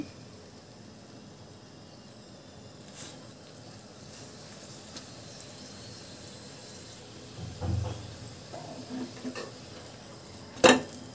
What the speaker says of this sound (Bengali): আবার একটু পল্টে নিলাম। আর কিছুক্ষণ ভেজে নিলেই আমার পরোটাটা হয়ে যাবে।